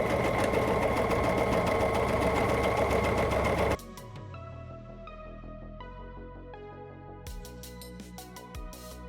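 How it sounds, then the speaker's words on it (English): A sewing machine stitching fabric for a crochet tote bag runs loud and continuously, then stops, leaving a quieter stretch of clicks and light handling before a few more short bursts of stitching near the end. "I have to cut the fabric and then sew the fabric."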